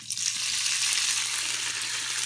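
Spaetzle frying in leftover bacon fat, a steady, close, dense sizzle that holds evenly throughout with no talking.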